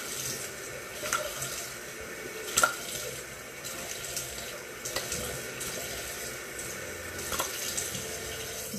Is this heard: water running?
yes